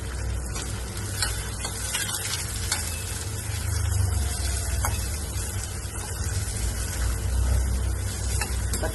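Two onions with a pinch of salt go into a pan of browning garlic for a jackfruit bhaji, producing a constant loud sizzle with stirring scrapes over a low rumble.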